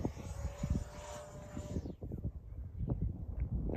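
Aerobatic jet aircraft passing by, a steady engine roar that cuts off sharply partway through, followed by faint outdoor background noise.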